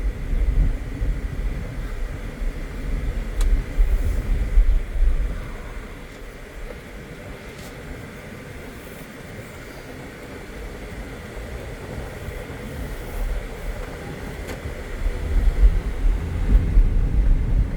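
Naturally aspirated 2.5-liter flat-four in a Subaru Forester hums steadily while driving, a low continuous drone that swells and eases with road noise, no voices over it.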